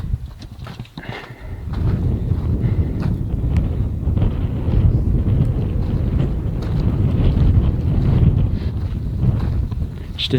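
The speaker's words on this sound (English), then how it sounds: "Some crazy wind." Strong, crazy wind at an abandoned mercury mine cabin roars steadily and loudly against the microphone, with a few knocks and rattles at the very start before the constant low buffeting takes over.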